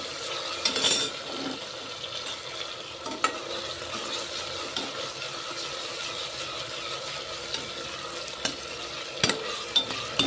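Fresh ginger-onion paste frying with tomato and onion in a pan, a steady close sizzle with occasional scraping and stirring clicks throughout. No talking.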